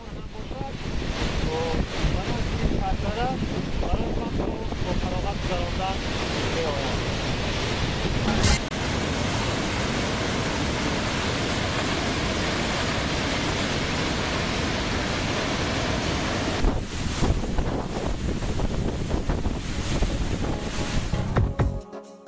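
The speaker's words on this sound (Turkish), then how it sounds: "Bu şelale köyden pek uzakta değil." A waterfall not far from a village in Tajikistan roars as a steady, broadband rush of falling water, loud and continuous throughout with some wind buffeting, no clear talking.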